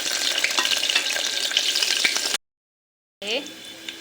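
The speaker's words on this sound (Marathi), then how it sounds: "चांगलं तेल गरम झालंय थोडं, त्यानंतर थोडंसं त्याच्यात कांदे टाकले" Onions dropped into hot oil for mutton curry fry with a loud close hiss and crackle, broken by a brief silent gap, then resuming with stirring scrapes; no talk over it.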